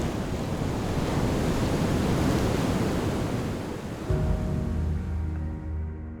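Ocean waves washing onto an empty beach, a loud, steady roar of surf with wind buffeting the microphone, later joined by a faint low hum.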